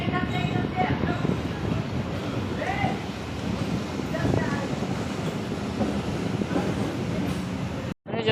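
An Indian DEMU passenger train hauled by an express engine on the Nirmali–Darbhanga rail line rumbles steadily and loudly nearby, with broadband running noise throughout and brief horn-like tones, cutting off abruptly near the end.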